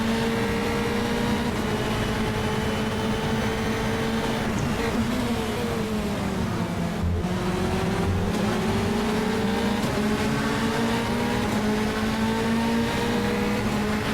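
Formula 3 single-seater race cars at Circuit Gilles Villeneuve, a steady loud engine drone with a smooth rise and fall in pitch as cars pass close by, continuous throughout with no talk.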